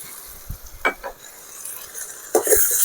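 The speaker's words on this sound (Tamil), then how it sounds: "இஞ்சி பூண்டு பேஸ்ட்டு, இதுவும் நல்லா பச்சை வாசனை போகிற அளவுக்கு வதக்கிங்க." Ginger garlic paste sautéing in a pan for prawn kuruma, a faint sizzle under intermittent stirring scrapes and a few utensil knocks against the pan, no talking.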